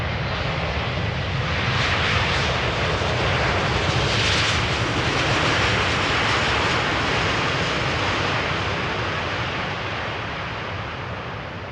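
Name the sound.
airplane landing at Amsterdam Schiphol runway 18R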